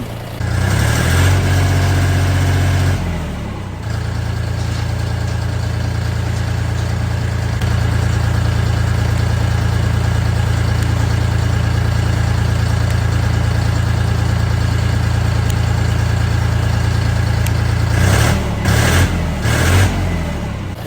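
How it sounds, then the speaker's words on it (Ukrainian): A YTO SK 244 SX 24-horsepower tractor engine idles with a steady, loud diesel rumble for the full clip, shifting to a fuller, even drone after the first few seconds. "Я завів двигун"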